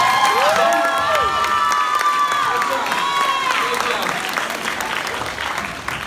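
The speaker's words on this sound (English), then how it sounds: "Let's give him another round of applause" Applause and cheering from a graduation audience at a fourth-grade ceremony, steady and fairly loud throughout, with children's shouts and whoops rising over the clapping.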